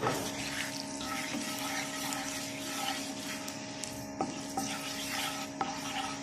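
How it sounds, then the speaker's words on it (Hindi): Flour and pasta ingredients browning in a pan give a steady close sizzle with stirring scrapes and a few sharp clicks of a spoon against metal. "और इसको हल्का सा ब्राउन करेंगे अच्छी तरह से।"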